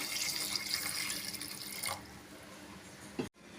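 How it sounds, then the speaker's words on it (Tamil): A little water is poured into a cooking pot while making pulicha keerai kadaiyal. A steady, splashy pour lasts about two seconds, then a quieter trickle follows, ending in a short clunk. "கொஞ்சமாக தண்ணி சேர்த்துக்கலாம்"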